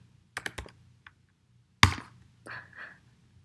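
Keys on a computer keyboard clack in a few quick clusters, with one loud sharp strike midway and softer taps after, close and with no voices.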